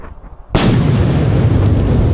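Bombs exploding in wartime Vietnam: a sudden loud blast after a quiet half-second, followed by a sustained heavy rumbling roar that holds steady to the end.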